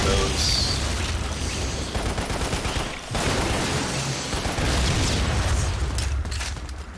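A loud video game explosion with dense rumbling blasts and crackling debris, continuous apart from a brief drop midway.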